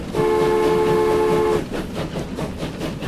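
A train in the Transport Fever video game rolls along with a loud horn blast for the first second and a half, then continues under a steady, rhythmic clatter of wheels with no talk.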